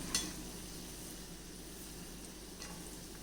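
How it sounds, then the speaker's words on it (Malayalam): Banana fritters (pazham pori) fry in oil over a low flame, giving a soft, even sizzle close by with a couple of faint stirring touches. "നമുക്ക് തിരിച്ച് മറിച്ചിട്ട് ഇത് മൊത്തം മൂപ്പിച്ചെടുക്കാം."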